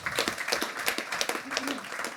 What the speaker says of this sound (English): Round of applause, sorry, thank you.